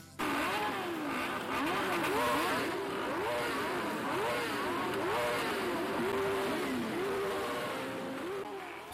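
A group of motorcycles roars and revs together as a greeting to friends, loud and close, with repeated rising and falling engine sweeps overlapping throughout.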